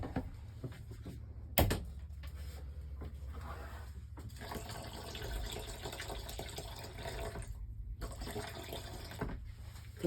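Toilet treatment liquid poured into a trailer toilet, a soft continuous trickle and gush of liquid running close by for several seconds, with a brief knock near the start.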